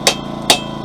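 A hammer strikes a flat chisel held against hot steel at a forge, giving two sharp metallic blows about half a second apart, close and clear.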